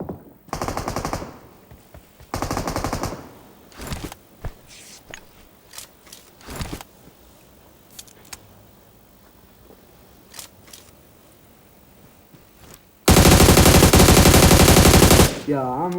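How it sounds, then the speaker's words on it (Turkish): Automatic gunfire from a video game: several loud bursts at the start, scattered single shots and clicks in a quieter middle stretch, then a long sustained burst near the end, with no clear talk. "hala uzaktan sıkıyor bana"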